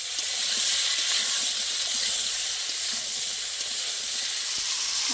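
Potatoes and plantains seasoned with turmeric and salt fry together in oil until reddish brown, giving a loud, continuous, hissing sizzle close by with scattered small crackles and no voices.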